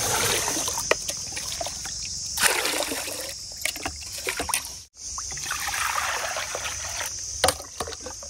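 Tamarind leaves being washed in water by hand, with continuous close splashing and trickling, sloshing bursts around a few seconds in, a brief pause midway, then more swirling and splashing.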